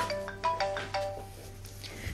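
An incoming call sets a mobile phone ringing with a repeating electronic tone pattern, moderately quiet and heard alone against faint room background.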